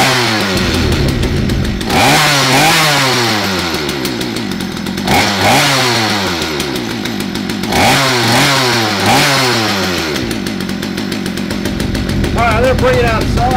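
Poulan P3416/P3314 chainsaw running indoors after a carburetor rebuild and hose replacement, the small two-stroke engine revving up and dropping back repeatedly in loud, rising whines over a steady buzzing idle.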